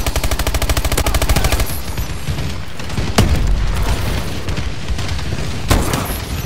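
Heavy gunfire and bombing in a video game battle, a loud rapid machine-gun stream followed by dense rumbling blasts and sharp explosions, close and continuous with no talk.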